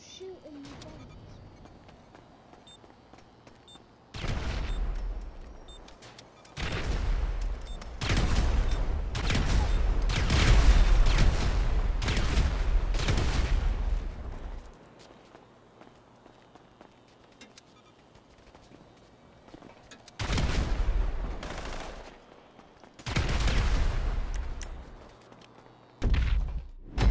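Video game gunfire and bomb shots in a wave-based shooting game, heard as bursts of rapid, heavy firing and thudding blasts separated by quieter gaps, with a voice talking in between.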